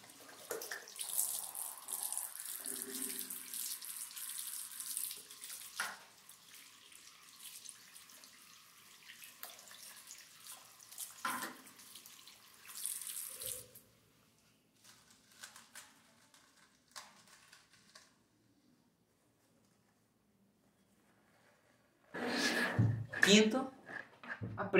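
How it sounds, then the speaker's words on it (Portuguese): A bathroom tap runs while hands are washed during a home cubing routine, a steady close hiss for roughly the first half, fading to quiet, then returning as a louder splashing burst near the end. "Não se esqueça de lavar as suas mãos e o seu cubo."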